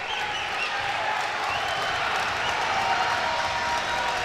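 A crowd at a Big Ten college wrestling dual between Purdue and Maryland applauds and cheers, a dense, steady roar of clapping and voices filling the arena.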